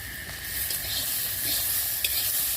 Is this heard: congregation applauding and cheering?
no